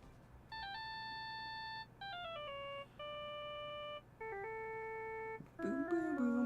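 A mobile phone ringtone from the Phoenix Wright: Justice for All video game, a clean electronic melody of stepped synth tones in short phrases separated by brief gaps, ending with a rougher burst as the ringing cuts off.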